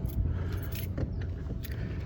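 Car keys jangle continuously at close range beside a car driven by a house driver in Saudi Arabia, a steady bright metallic rattling with no talk.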